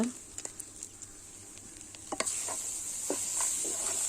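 Chana dal and fresh coconut sizzle in a frying pan while being stirred, soft frying hiss with scattered scraping clicks of a spoon against the pan, growing slightly louder toward the end.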